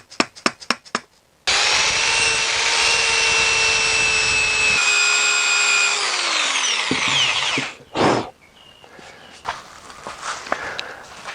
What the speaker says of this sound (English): Then I will take the rest off with my sander.